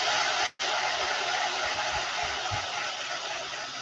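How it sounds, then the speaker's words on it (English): A hair dryer blows with a loud, steady whooshing hum while drying paint on a fishing lure, cutting out for a split second near the start before resuming. "So the hair dryer will just get you moving faster a little bit."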